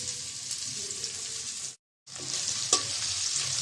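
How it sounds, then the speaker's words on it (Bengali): Chopped onion frying in oil in a wok gives a steady, close, loud sizzle that cuts out briefly and then resumes, with no talking. "পেঁয়াজটা হালকা করে ভেজে নেব।"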